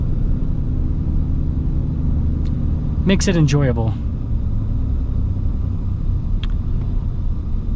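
A 2025 Ram 2500 Longhorn Mega Cab pickup truck idles along with a steady, close, low engine rumble throughout, under a brief spoken remark.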